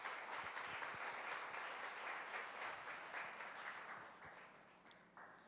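Church congregation at a Spanish-language service in Ciudad Madero, Tamaulipas, Mexico, gives a full, dense round of applause that gradually thins and fades toward the end, with a few scattered claps left.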